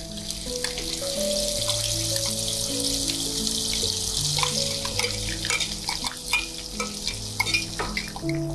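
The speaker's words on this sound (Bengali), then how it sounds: "এই যে মশলাটা করলাম, এটাই তুমি দিয়ে দিচ্ছ কড়াইতে তেলের উপরে?" Masala paste for a bottle gourd kofta curry sizzles loudly in hot oil in a kadhai, a close, steady crackling fry with scraping stirs over a low, droning tonal background.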